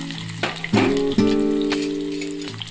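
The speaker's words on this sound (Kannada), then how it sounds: "ಈರುಳ್ಳಿಯನ್ನು ಚೆನ್ನಾಗಿ ಎಣ್ಣೆಯಲ್ಲಿ ಫ್ರೈ ಮಾಡಬೇಕು" Chopped onions hit hot oil already seasoned with cumin and mustard seeds for a cucumber palya, bursting into a loud close sizzle that starts abruptly and then settles into a steady, slowly fading fry.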